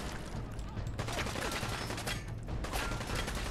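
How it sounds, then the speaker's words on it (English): Scattered gunfire in Fallout 4 crackles at a moderate distance, several overlapping shots in irregular bursts over a steady background din, with no one speaking. "Who else is shooting?"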